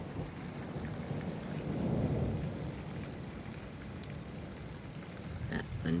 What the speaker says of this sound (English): That thunder's amazing.